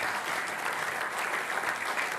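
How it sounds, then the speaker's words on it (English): A seminar audience breaks into steady, dense applause, a continuous crowd of clapping hands at even loudness throughout, with no speech over it. "get a round of applause for Manos"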